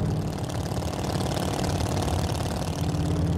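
A 1951 Allard K-2 hot rod with a Merc flathead engine runs at a steady, loud idle, its deep rumbling exhaust close by and unbroken for the whole stretch.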